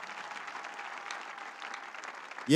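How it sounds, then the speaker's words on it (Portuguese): A church congregation claps steadily at a Palm Sunday service, a fairly faint, even patter of many hands that holds throughout before a sudden louder burst at the very end. "Aplaudam a Cristo Jesus"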